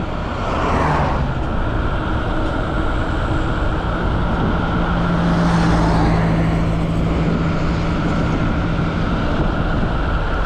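An electric bicycle running in third gear at full battery, giving a steady, fairly loud rush of motor whine and road and wind noise that holds constant throughout, with no talking.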